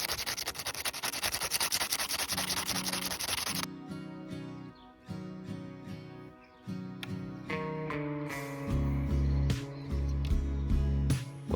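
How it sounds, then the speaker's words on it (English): Sandpaper rubbing over bicycle bottle cage bolts in a garden, a steady scratchy scrubbing that keeps going with short pauses, backed by a tonal music bed. "I only needed a few minutes with some sandpaper to get them looking almost new."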